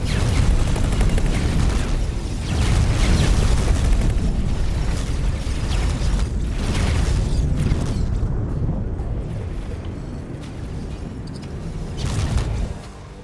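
Gunfire and explosions rage in a video game in a dense, loud barrage of booms and bursts that thins out toward the end, with no voices.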